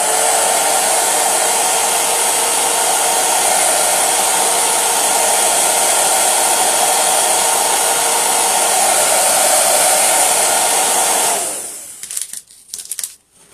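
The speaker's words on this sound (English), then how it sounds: "I'm going to hold this back and dry it with a hairdryer" A hairdryer blows in a steady, loud, close whoosh over a chalk transfer for about eleven seconds, then cuts off abruptly, leaving faint handling noises.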